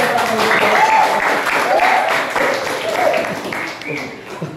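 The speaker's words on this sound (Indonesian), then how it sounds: "beri semangat dulu, tepuk tangan dulu" Indonesian audience, likely at a school gathering, gives a short burst of hand clapping, dense and fairly loud for a few seconds while voices carry on through it.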